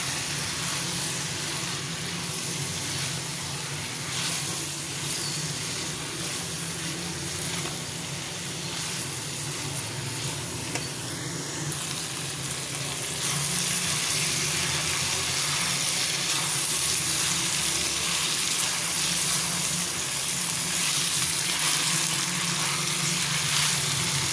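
Potatoes added to nearly cooked capsicum sizzle and fry in a pan, a steady continuous hiss that brightens and grows a bit louder partway through, with no talking.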